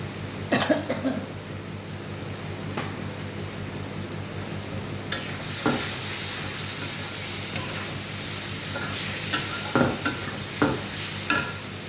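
Egg curry masala with a splash of milk sautéing in a pan, a steady hissing sizzle broken by stirring scrapes and clinks, with a few coughs and throat clearing nearby.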